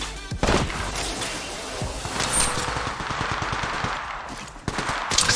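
Rapid bursts of automatic gunfire from the Apex Legends Mobile shooter game, sharp repeated shots in clustered volleys with a couple of louder single cracks, loud and close throughout.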